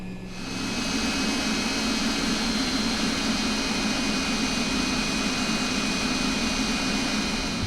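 Steady, loud roar and whine of MD-80 jet engines taxiing in the X-Plane 10 flight simulator, building up in the first half second and then holding a constant drone with a high tonal whistle throughout.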